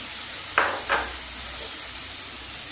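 Cauliflower being sautéed in a pan for a Bengali yogurt cauliflower dish: a steady bright sizzle throughout, with two short scraping stirs near the start, close and fairly loud, no talk.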